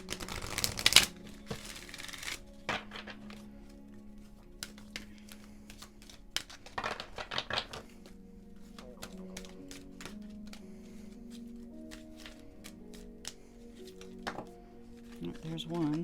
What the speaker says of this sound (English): we're going to go ahead and give a shuffle